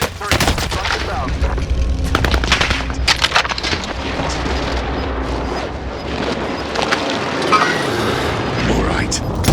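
A precision airstrike lands in Call of Duty: Warzone on Fortune's Keep, bringing bursts of gunfire and heavy booming impacts that go on steadily through the clip, with a radio voice speaking over the barrage.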